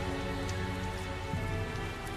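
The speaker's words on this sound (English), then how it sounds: "Tell us the details after we find shelter from the rain" Steady rain falling in the video game Tales of Zestiria, a dense, even patter of drops that holds at moderate loudness throughout with no voices.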